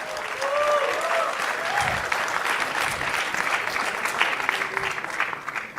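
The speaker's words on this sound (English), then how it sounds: "Let's just welcome them once again with a huge round of applause." Conference audience at a leadership conclave applauding, a sustained wash of clapping from a large crowd that holds steady throughout, with faint voices underneath.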